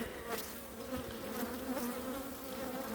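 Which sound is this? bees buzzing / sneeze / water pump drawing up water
bees buzzing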